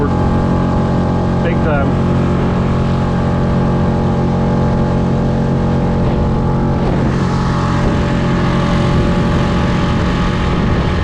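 A HooDoo Hero 130 micro skiff's outboard motor runs flat out at full throttle on the water near Galveston, a steady, loud droning hum that lasts throughout while people talk over it.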